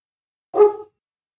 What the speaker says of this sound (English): My dog is not going to stop barking.